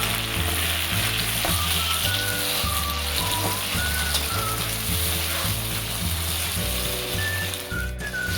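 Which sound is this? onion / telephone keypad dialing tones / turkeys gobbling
onion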